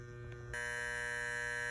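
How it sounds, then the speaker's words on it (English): Andis Master Deluxe hair clipper switching on and running, a soft steady electric buzz with a sharper tonal hum after it starts, close and quiet. "This thing is quiet. This is the Andis Master Deluxe."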